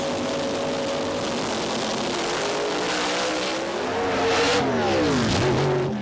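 Drag racing cars, one supercharged and one nitrous-fed, launching at the 2007 IHRA North American Nationals, their engines roaring steadily and swelling louder with a sweeping pitch shift near the end, heard alone without talk.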